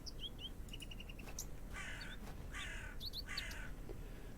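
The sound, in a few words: crow cawing in a video game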